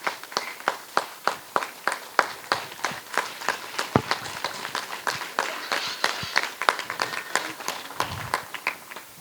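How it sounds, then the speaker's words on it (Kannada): Audience applause for performer Karunakara Acharya after a yakshagana show: sharp, fairly sparse claps in a loose rhythm from a modest crowd, close and distinct rather than a dense roar. "ಜೋರಾದ ಚಪ್ಪಾಳೆ ಬರಲಿ ಶ್ರೀಯುತ ಕರುಣಾಕರ ಆಚಾರ್ಯ ಅವರಿಗೆ ಪ್ಲೀಸ್."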